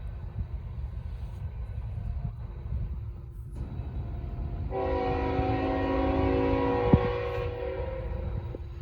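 Norfolk Southern freight train with a Tier 4 lead locomotive passing, a low rumbling roll joined midway by a loud sustained multi-tone horn blast, with a short metallic clank near the end.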